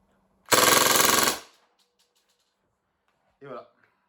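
An airsoft T77 mini Uzi gas blowback replica fires one rapid full-auto burst of about a second, loud and close, followed by silence and a brief voice.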